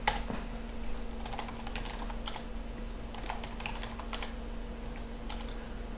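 Someone types on a computer keyboard while setting a root password during a cloud server installation, with irregular bursts of key clicks over a steady electronic hum.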